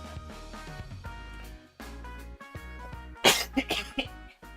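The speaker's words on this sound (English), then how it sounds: "I still have a cough now and then, so excuse me if I have to cough during the stream" A few sharp coughs burst out near the end, loud and close, over a steady bed of background music with no speech.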